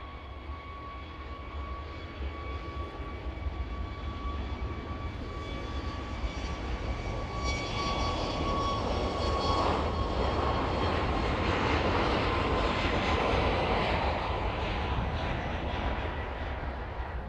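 An airliner on approach, bound for Berlin, its engines a continuous loud roar that builds gradually and holds steady with a whining tone throughout.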